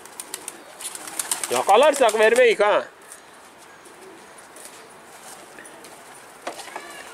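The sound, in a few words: panter pigeons cooing and flapping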